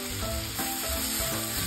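Tempeh sizzles steadily in a pan of spice paste with bay leaves as it is stir-fried, a constant loud frying hiss with a faint rhythmic scrape of stirring underneath.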